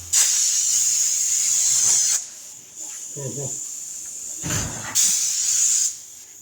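Hissing bursts from a spray paint can, a long spray for about two seconds, a gap, then two more near, loud sprays around five to six seconds, with brief muffled handling sounds between.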